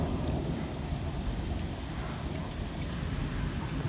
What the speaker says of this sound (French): On a un orage de fou avec des impacts de fou là.